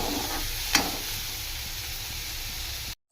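Spices sizzle and get stirred in a hot pan, a steady soft frying hiss with one sharp clink of a utensil near the start, then an abrupt cut to silence.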